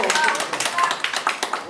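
An audience claps at a council policy meeting on the Sejong weir, a run of quick, fairly close hand claps with a voice faintly present underneath.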